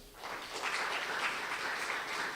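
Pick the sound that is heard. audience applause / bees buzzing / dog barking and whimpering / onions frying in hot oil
audience applause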